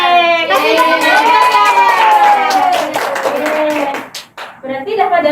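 A group in a classroom claps together briskly and loudly, while children's voices call out and sing over the applause.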